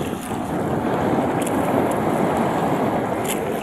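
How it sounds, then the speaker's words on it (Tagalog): Steady broadband wash of sea waves with heavy wind buffeting the microphone, continuous and fairly loud, no voices. "Iyan ang mga alon guys"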